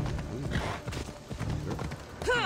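Horse hooves clip-clopping in a quick rhythm in Assassin's Creed, mixed with game sound effects and a brief whinny-like sound near the end, with faint voices.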